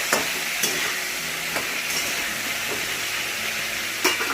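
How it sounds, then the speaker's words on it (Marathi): Drumstick pods being stirred in hot oil in a pan, a steady bright sizzle broken by occasional sharp scrapes and taps of the spoon. "शेंगांना चांगला हलवून द्यायचं"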